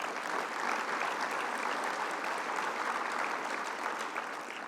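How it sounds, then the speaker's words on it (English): A crowd at the Irving State of the City address breaks into dense, sustained applause that holds steady for several seconds before easing slightly, with no voices over it. "So that definitely, I think, deserves a round of applause."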